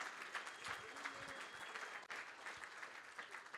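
Audience at a policy summit giving a round of applause for Rico, sustained clapping from a crowd that holds steady throughout, mixed with a few faint voices.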